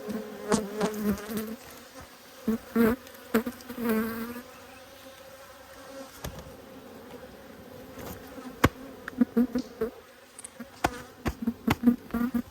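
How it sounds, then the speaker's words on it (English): Honey bees buzz around an open hive during a late-winter inspection, a steady close hum with sharp passes of single bees flying by the listener and light handling knocks, no talk. "The bee crawling up my leg,"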